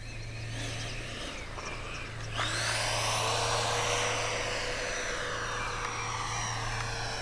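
A Freewing B-2 Spirit model jet with twin 70mm electric ducted fans throttles up for a go-around, its faint whine jumping to a loud, sustained roaring hiss that holds steady for several seconds, with no talking.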